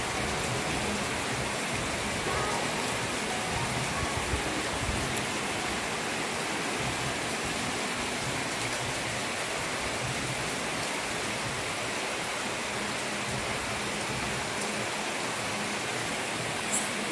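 Heavy rain pours down in a dense, constant hiss, steady and loud throughout with no pauses or voices.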